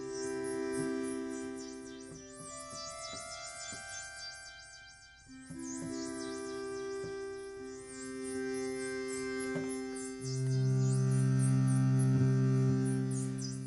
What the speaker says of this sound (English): and then kind of an organ sound